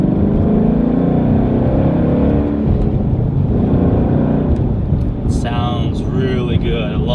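A sports car engine and exhaust drone loudly close by, rumbling steadily and rising as it revs, while a voice speaks over it near the end.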